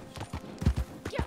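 A horse's hooves clip-clop in a Red Dead video game, several close, uneven thudding steps in quick succession over a short stretch, with no talk.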